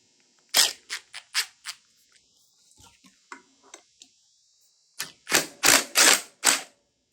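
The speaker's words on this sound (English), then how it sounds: "So let me get the impact gun on that," An impact gun hammers at a part on a 1974 MT250 motorcycle during crank seal work, firing a string of sharp rattling bursts, going quiet with light clinks, then ripping through a second run of loud bursts.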